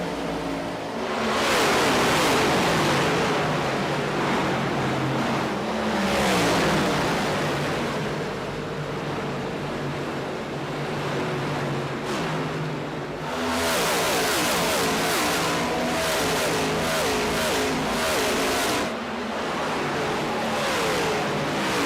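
Race cars roaring around Homestead-Miami Speedway in the iRacing NASCAR Next Gen sim, a loud continuous engine drone with passing surges and revving swells, no talking over it.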